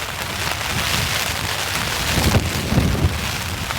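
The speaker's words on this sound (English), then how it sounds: "rain blows up into that vent and it can get onto the inner" Heavy rain drums steadily on a tent during a mountain rainstorm, a dense close hiss with gusty swells and no talk.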